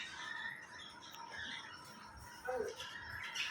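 Many birds at a bird farm chirp and squawk in scattered high calls, moderately close, over a soft indoor background.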